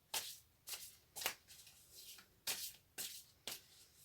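Oracle cards riffled and shuffled by hand, a series of six or seven short crisp bursts spaced about half a second apart, close and fairly quiet, with no talking.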